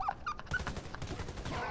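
Gunfire in the online shooter Warface, a dense burst of rapid shots crackling through the clip at moderate level, with no talk over it.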